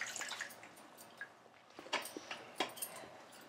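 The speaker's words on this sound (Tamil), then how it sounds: "இந்த மாதிரி தண்ணியை புழிஞ்சிட்டு போட்டு" Water drips and splashes in a few irregular bursts as squeezed spinach greens are wrung out in a home kitchen, faint and close, with no talking.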